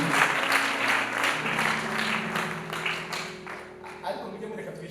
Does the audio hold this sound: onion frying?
no